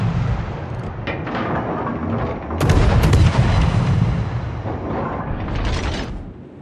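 Heavy naval artillery salvos boom from a Khabarovsk destroyer in World of Warships, a dense rolling barrage of loud blasts with sharp peaks around the middle, set over constant low rumble.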